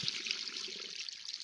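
Dirty black water pours out while a car battery is washed with acid, a soft continuous trickle and splash, close and fairly quiet with no talking.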